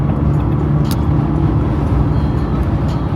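A 4x4 truck engine runs steadily during a rainy, muddy off-road trip, a loud, continuous low rumble with no talk over it.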